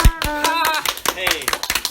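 Hands clap in quick, uneven rhythm nearby, with people talking over the claps.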